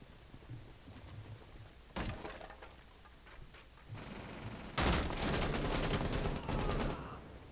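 Gunfire in Rainbow Six Siege crackles in bursts, a short rattle first, then a louder sustained volley of rapid shots with sharp cracks and debris clatter, heard at moderate distance amid background game noise.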